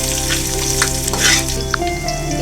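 Chopped onions fry in a pan for a spinach and moong dal dish, giving off a dense, continuous sizzle close up, with a few soft stirring clicks and no talking.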